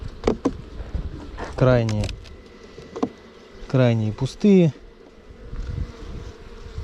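Honey bees hum at an open hive during a mite check and colony inspection, a steady low buzz running under a man's speech, with brief louder passes of insects close by.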